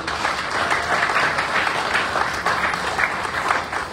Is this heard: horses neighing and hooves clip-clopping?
no